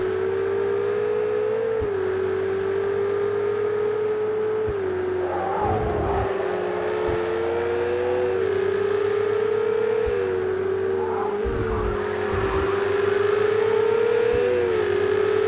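Yellow Ferrari lapping Brands Hatch in Project Cars 2, a steady high engine drone rising and falling through gear changes, with brief bursts of tyre and contact noise, no talking.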